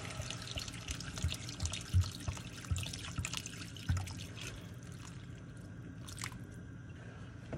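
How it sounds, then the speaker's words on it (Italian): Water is poured into a pot of cut potatoes and salt for a pasta dish, splashing and gurgling nearby with soft knocks of the pot, then easing to a quieter trickle. "Aggiungiamo l'acqua,"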